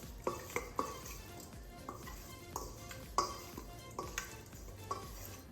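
Olive oil and paprika kebab marinade being stirred in a bowl, with soft scraping and occasional light clinks of a utensil against the dish, fairly faint and close with no voices.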